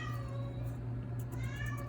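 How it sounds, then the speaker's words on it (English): A house cat meows a few times indoors, close by, over a steady low hum at a home stained glass crafting table. "Oh, my cat."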